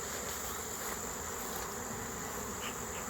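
Honeybees swarm back to their hive in a dense, steady buzz that holds at an even, moderate level throughout, close by, with no talking.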